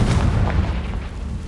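A Confringo fire spell from Hogwarts Legacy bursts in a deep, rumbling explosion inside the Acromantula cave, a loud close boom with a booming low roar that decays over a second and a half.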